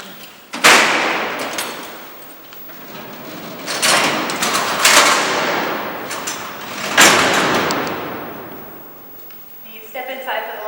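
Heavy steel prison cell doors at Alcatraz rumble as they slide along their tracks and crash shut with loud metallic bangs, several times in succession, echoing through a large cellblock; a voice talks briefly at the end.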